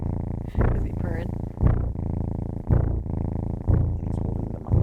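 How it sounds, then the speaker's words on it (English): A purring cat at a Florida SPCA adoption event during kitten season, steady rumbling purr close by, rising in short swells about once a second, with people talking over it. "Is he purring?"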